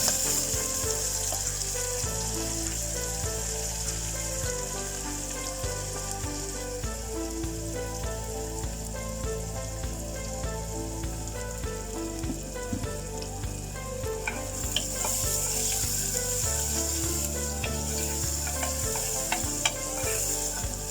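A medium-sized chopped onion fries in hot oil that has already crackled with spices, giving a loud, dense, continuous sizzle with occasional stirring clatter, alone throughout.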